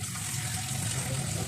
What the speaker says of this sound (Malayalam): അതിലേക്ക് കുറച്ച് ഉപ്പൊക്കെ ചേർത്ത് നന്നായിട്ട് അതിനെ കഴുകി എടുക്കണം.